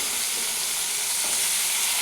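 Bitter gourd and potatoes fry in hot oil with a loud, steady, dense sizzle and hiss that runs unbroken the whole time, close up.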